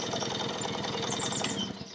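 Vintage Suzuki FR50 motorcycle with a contact-point ignition, its small engine running close up with a rapid, steady clattering putter, loud and continuous.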